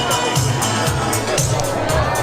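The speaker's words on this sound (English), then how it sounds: "Oh, check out the crowd." A crowd inside the Heineken Experience in Amsterdam fills the space with a dense, continuous babble of many voices, close and steady, with occasional louder bursts.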